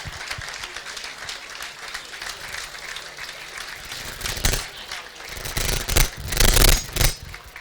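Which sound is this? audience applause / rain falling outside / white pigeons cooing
audience applause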